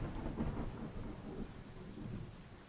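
Steady rain with low rolling thunder in a trucking video game set in the American Midwest, a continuous dense wash of rainfall under a deep rumble that swells and fades, with no voices.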